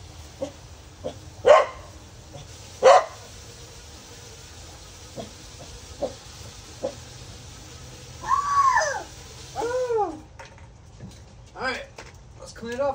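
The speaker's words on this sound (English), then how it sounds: "Stop barking, please." A dog barks indoors during cleaning of a toy car, several separate barks spread out, two sharp ones early and a cluster of higher yelps later, over quiet background.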